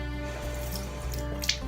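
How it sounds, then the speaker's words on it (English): A charcoal makeup brush is wetted under running tap water, giving a steady close trickle with a soft drip near the end, heard alone without talk. "So we're just going to wet the brush"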